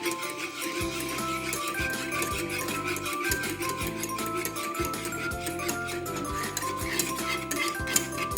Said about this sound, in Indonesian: Ini diaduk-aduk terus ya sampai mendidih ya teman-teman.